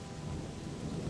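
Video game audio: steady rain with a low rumble of thunder underneath, a continuous dense wash of sound with no voices.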